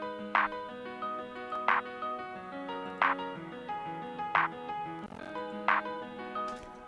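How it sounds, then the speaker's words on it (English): Reverberant piano from the Spectrasonics Keyscape virtual instrument on a cinematic setting, notes struck at a steady, slow pace, each chord ringing out and overlapping with the next in a lush, washy tail. "This is Keyscape by Spectrasonics, a great piano VST."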